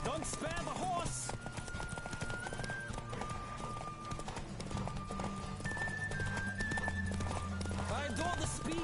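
Steady galloping hoofbeats of a horse in The Witcher 3: Wild Hunt drum on beneath game music, with a brief neigh breaking through amid the rhythmic clip-clop.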